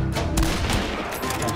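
Gunshots in the video game Hunt: Showdown, Tide of Shadows event: a loud sharp report near the start followed by echoing reverberation and further distant shot-like bursts.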